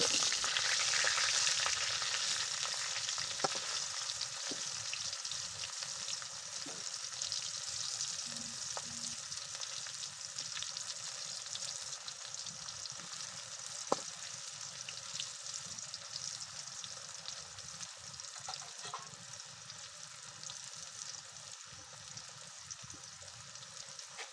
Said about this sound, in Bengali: এখানে আমি সবগুলো কাঁকরোল একসাথে দিয়ে নিয়েছি ভালো করে এগুলোকে ভেজে নিতে হবে